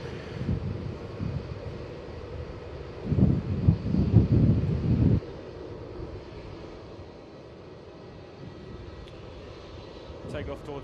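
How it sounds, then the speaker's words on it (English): An Indonesia airliner takes off on runway 16 at Melbourne Airport with a low, broad engine roar that swells into a brief loud rumble and then fades into distant wind-like noise. "Indonesia 717, runway 16, cleared for takeoff."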